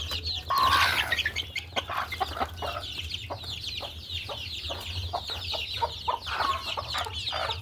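A caged hen clucks close by while young chicks cheep continuously in high, rapid peeps, with a low hum underneath.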